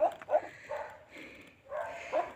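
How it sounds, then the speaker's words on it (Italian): Dogs give a few yips and barks with whimpering at the foot of a hill, fairly close and in short bursts separated by brief pauses. "I cani fanno da padrone."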